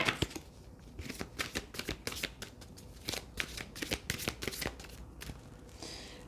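Tarot cards are handled, shuffled and laid out on a table in quick, crisp riffling flicks and slaps, close and fairly soft, continuing steadily with brief pauses and no voices.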